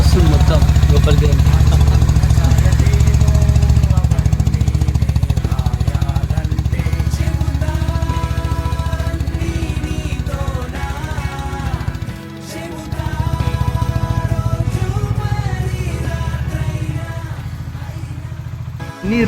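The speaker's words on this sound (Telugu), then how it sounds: "ఇంజన్ సౌండ్ స్మూత్ ఫైరింగ్ అసలు" A Honda CB 350RS motorcycle, left unused for 24 days during heavy rain, idles just after starting with a steady low rumble and faint clatter, heard under voices talking nearby.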